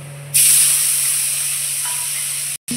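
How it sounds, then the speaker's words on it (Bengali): Cumin seeds hit hot oil for tempering while a fish curry is cooked, making a sudden loud, steady sizzle that holds for about two seconds before cutting out briefly. "ফোড়নে দিচ্ছি জিরে"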